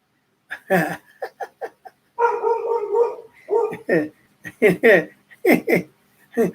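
A voice imitates a dog, with a run of barks and yips mixed with laughter-like sounds, close and lively, in short bursts with pauses.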